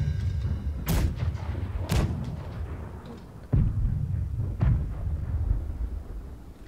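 Four heavy port-side ship cannon shots boom out about a second apart, then after a gap, each a sharp broadband blast with a rumbling tail over low battle noise aboard a schooner in a naval video game.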